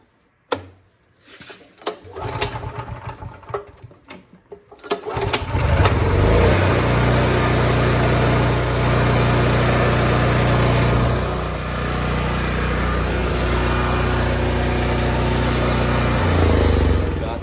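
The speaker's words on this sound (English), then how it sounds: "Carburetor on the generator, it's running good." A Honda EM3500 generator fitted with a new carburetor starts after a few clunks and sputters, then runs loud and steady at close range with a constant droning hum.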